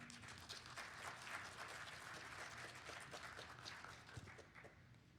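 A small audience at a tech talk on data poisoning applauds a speaker named Anya, a faint, steady wash of clapping that stays even throughout.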